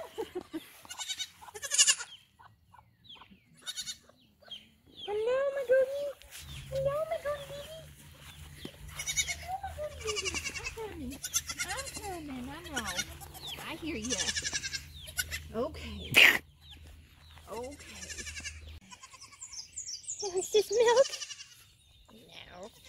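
Goats on a farm, sick with worms and diarrhea, bleat repeatedly near and far, with people talking between the calls over a low steady hum.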